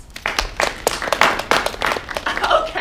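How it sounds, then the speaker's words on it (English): Scattered audience clapping, a handful of uneven separate claps rather than full applause, fairly close. "Clap if you know what a doll is."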